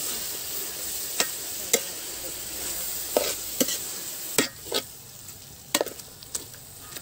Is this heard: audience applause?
no